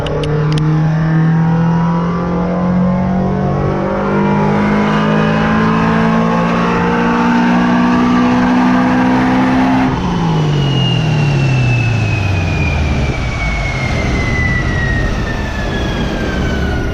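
A turbocharged Scion FR-S runs on a dyno, its engine droning at a steady high pitch that climbs slowly, then drops abruptly and sweeps into another rising pull, loud and close with no talk.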